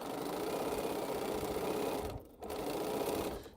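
A sewing machine stitches quilt rows together in a fast, even mechanical hum with a rapid needle rhythm, briefly stopping and then restarting, close and fairly quiet.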